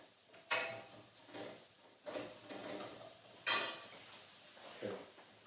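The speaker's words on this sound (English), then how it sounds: "In goes the onions. Just give it a little whiz around the pan." Onions tossed into a hot pan with heating garlic and stirred, giving a few soft scraping strokes and faint sizzles at close range, separated by quiet pauses.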